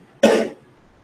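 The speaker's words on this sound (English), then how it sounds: "I just heard somebody else cough out here" A single short, sharp cough, close and loud, then quiet.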